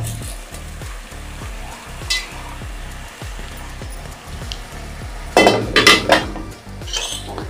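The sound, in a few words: rice and dal being added to the pot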